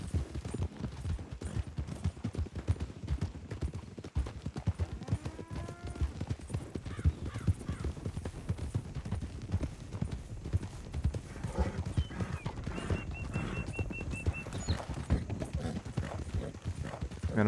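Horse hooves clip-clopping steadily in the video game WildRP, a continuous rhythmic trot at moderate distance with occasional whinnies and faint background noise.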